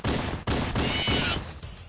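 Loud, rapid bursts of gunfire from the video game Halo crackle in quick succession, with one sharp break before the shooting resumes and trails off near the end.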